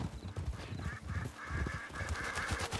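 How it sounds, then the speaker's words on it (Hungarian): Ducks quacking and honking in a busy, continuous chorus of overlapping calls, fairly close and steady throughout. "Ó, azt a itt mennyi kacsa volt?"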